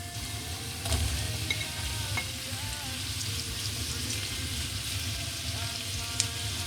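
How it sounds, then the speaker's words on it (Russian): Carrots and other vegetables fry with onion in a pan for meat rolls, a soft continuous sizzle with occasional clinks and scrapes, moderately quiet, no voices. "Следом я добавляю морковь и остальные овощи."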